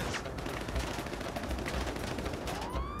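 Dense, continuous gunfire rattles from a Grand Theft Auto V firefight, with rapid overlapping shots forming a steady barrage that fills the whole stretch.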